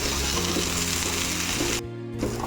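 Tomatoes lightly roasting in oil in a pan for bread toast, a steady bright sizzle and frying crackle, loud and continuous, briefly dropping out near the end before resuming.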